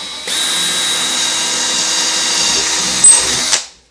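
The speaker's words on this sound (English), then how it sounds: "Drill our hole." A power drill whirs steadily at high speed for about three seconds, close and loud, then winds down and stops.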